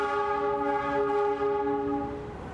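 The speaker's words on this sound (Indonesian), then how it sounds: "ini nih lokomotif dinas dari kereta api Jayakarta ya. Lagi dilangsir, bakal dipasang ke rangkaian kereta" A service locomotive for the Jayakarta train sounds a sustained, tonal horn blast while being shunted toward its coaches, loud and fairly close before fading slightly at the end.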